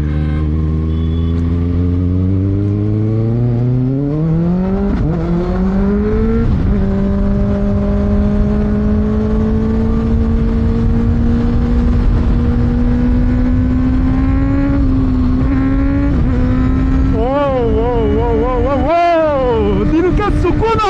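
A Kawasaki Ninja ZX6R superbike engine drones loudly while ridden on a congested road on a cloudy day, its pitch climbing steadily through gears with sharp revs near the end and a brief shift dip midway.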